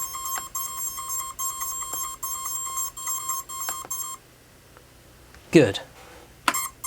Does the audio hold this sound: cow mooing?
no